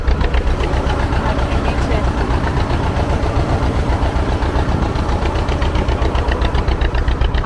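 A fishing boat's engine runs loud and close at sea, a rapid steady diesel-like chugging throb that continues without pause, with a voice speaking over it.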